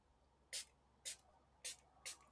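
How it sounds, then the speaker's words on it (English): A handheld spray bottle spritzes water onto a painting in four short, sharp hissing bursts spaced about half a second apart, fairly quiet in a still room. "Now I'm going to take my spray bottle and I'm going to spray all these dots"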